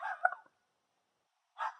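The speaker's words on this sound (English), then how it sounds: "I hope the barking isn't too loud for you guys" A dog gives two short bursts of barking indoors, one at the start and another after a stretch of silence, fairly close and moderately loud.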